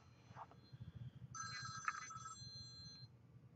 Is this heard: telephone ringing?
yes